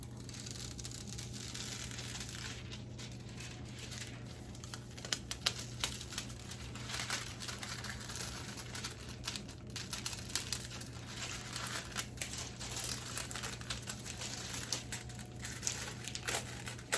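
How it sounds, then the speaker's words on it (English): Foil peels off a hot silk screen transfer in a long, continuous crinkling and crackling, steady and close with small sharp ticks scattered throughout and no talking. "You definitely want to hot peel this foil."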